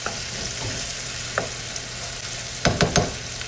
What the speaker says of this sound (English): I'm gonna add my corn, my green chili, get that all mixed in